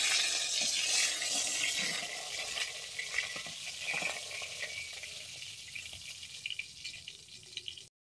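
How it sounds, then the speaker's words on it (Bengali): Pointed gourd (potol) sizzles steadily in hot oil while being fried until reddish, a dense, close crackle that gradually thins out and stops abruptly, with occasional soft stirring knocks and no voices. "এইভাবে আমি পটলগুলোকে খুব সুন্দর লাল করে ভেজে নেব"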